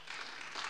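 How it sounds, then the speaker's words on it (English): A church congregation claps in praise, a dense wash of applause from many hands, continuous and fairly soft across the short moment. "So let's give God another hand clap of praise."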